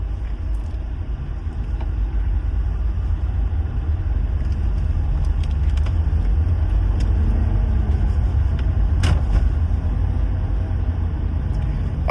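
Mercedes-Benz C250 Exclusive Edition pulling away on a test drive, a steady low engine and road rumble filling the cabin continuously at moderate level with no talk.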